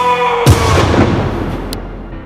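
A single loud gunshot rings out sharply after a brief moment of quiet, followed by a long decaying echo that fades over the next two seconds.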